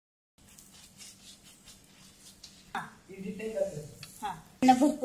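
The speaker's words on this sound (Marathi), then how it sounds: "भरपूर तेल लावून चांगले खरपूस भाजल्यानंतर पराठे छान लागतात।" Paratha frying in plenty of oil on a hot griddle, a soft sizzle and stirring noises that grow louder near the end, with a voice speaking throughout.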